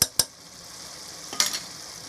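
Curd is being stirred into chicken biryani masala in a pot, with a few distinct scrapes and knocks spaced across a faint background sizzle.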